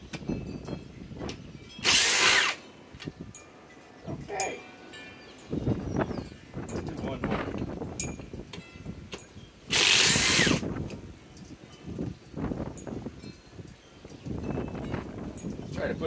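Ridgid R862312 driver in screw mode driving into sheet metal, with two short, loud whirring bursts separated by quieter handling noise and background sound.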